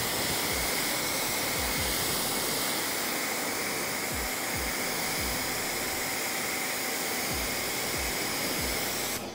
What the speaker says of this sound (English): Rinsing off the soap